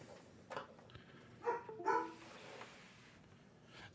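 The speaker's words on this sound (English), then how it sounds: "There's the barking dog." A dog barks indoors from another room, a few muffled, moderately distant barks over about four seconds against a low background hum, with no one talking.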